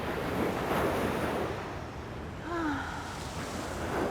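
Sea waves washing ashore in a steady broad rush of surf, with wind buffeting the microphone and a faint, brief tonal sound partway through.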